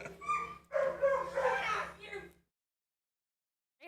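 Dogs bark and yip in a busy burst that runs into people talking for about two seconds, then the sound cuts to near silence until a faint return at the very end.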